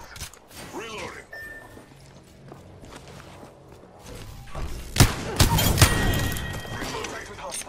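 Gunfire in a shooting video game played as Revenant, with sharp bursts of shots clustered in the second half over steady footsteps and game voice callouts.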